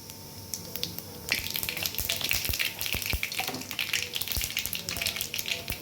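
Four cut dried red chillies drop into hot sesame oil where mustard seeds have already popped, setting off a close, crackling sizzle with sharp pops scattered through a steady frying hiss.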